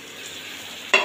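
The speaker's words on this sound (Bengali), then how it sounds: "এইভাবে ভালোভাবে নেড়ে চেড়ে কষিয়ে নেব।" Katla fish and bottle gourd fry in a pan with a steady, soft sizzle, then one sharp stirring scrape near the end, close and with no talking.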